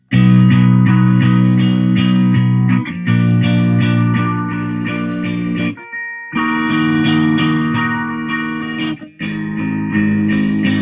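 Downstroked guitar chords from a song, played over the song's recording in a steady loud wash, with two short gaps where the sound drops out.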